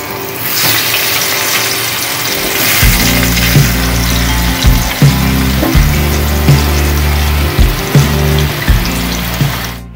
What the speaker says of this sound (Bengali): এবার আমি সেই তেলে অল্প কয়েক টুকরো আলু ভেজে নেব।